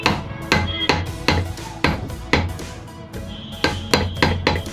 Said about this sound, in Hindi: तो इस छेनी को लगाते हैं इस तरीके से हम यहाँ और ठोक के निकाल लेते हैं इस बेरिंग को भी।